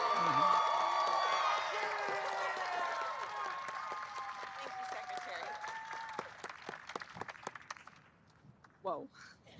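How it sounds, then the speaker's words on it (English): A crowd at a White House Teachers of the Year event applauds the National Teacher of the Year, loud clapping with whoops and cheers that gradually thins into scattered claps and footsteps. "Let's give Juliana a round of applause"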